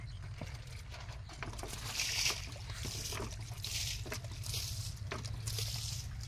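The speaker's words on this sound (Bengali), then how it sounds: "জল সেচতেছে, জলের সঙ্গে মাছ উঠছে" Water bailed out of a canal to catch fish, with faint splashing and trickling over a steady low hum, distant and quiet.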